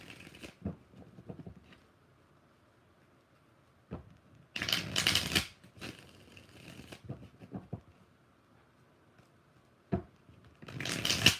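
Tarot cards are shuffled in three bursts of riffling and bridging, each a short flurry of crisp flutter, with quiet taps and card handling between them and no speech.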